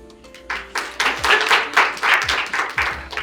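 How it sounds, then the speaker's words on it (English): Scattered bursts of clapping from a debate audience, a few separate rounds of hands coming and going rather than one sustained ovation, moderately loud in a room. "could you clap for us so that we can hear that?"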